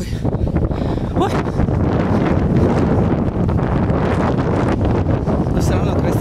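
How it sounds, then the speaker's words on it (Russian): Loud, steady wind on a Florida beach by the sea blasts the microphone for several seconds, a dense rumbling roar with brief gust bursts. "Ой, какой ветер, боже,"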